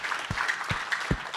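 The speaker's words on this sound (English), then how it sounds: "Big round of applause for everybody." Audience applause at a NY Tech Meetup, a steady wash of clapping from a crowded room with a few heavier thumps in a short burst.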